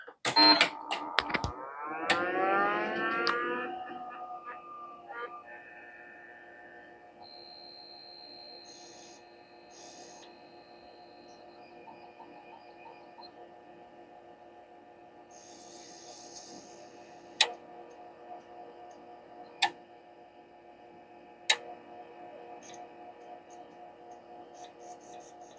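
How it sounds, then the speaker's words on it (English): An Apricot Xi computer powers on with a brief whir and rattle from its hard drive, then settles into a faint steady hum broken by a few sharp ticks. "I'll put the microphone close to the drive. You might be able to hear it."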